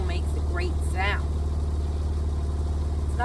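A Porsche 911 997 Turbo Cabriolet's 3.6-liter flat-six idles with a steady, deep, even rumble, while someone talks over it early on.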